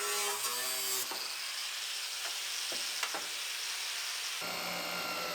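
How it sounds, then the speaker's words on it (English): Angle grinder cutting the end of a steel chassis rail on a 2015 car chassis for a 1965 Mustang project, a loud, steady hissing grind with a few sharp clicks, ending in a brief motor whine. "Just going to cut the end of it with the grinder so we don't have to remove that upper rail."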